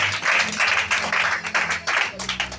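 A church congregation claps in rhythmic bursts during a worship service, loud and close, with a low hum of voices and instruments beneath.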